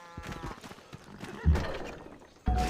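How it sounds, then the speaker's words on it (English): Horse unit in the strategy game Civilization 5, a whinny with hoof clip-clops, fairly close and moderately loud, followed by two heavier thuds. "We're going to have to move this horse."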